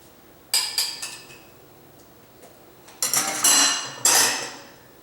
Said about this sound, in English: So you just kind of, layer it with your spoon.